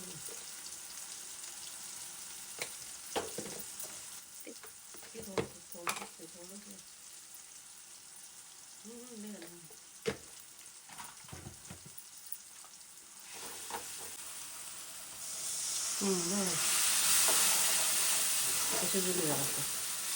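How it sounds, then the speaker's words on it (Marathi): Ground spices roasting in hot oil with tomato for a Kokan-style jackfruit bhaji, a steady sizzle that swells louder near the end, with occasional stirring clinks and a voice talking over it. "तर आता मी सगळे मसाले टाकते आणि त्यांना पण चांगलं भाजून घेते."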